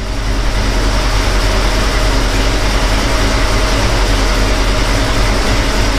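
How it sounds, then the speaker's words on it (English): A 1979 Chrysler Cordoba engine idles steadily and loudly on a cold start with a new exhaust, a deep, rumbling drone with a rough, throaty exhaust note that holds without letting up. "the cold start and the first start with the new exhaust"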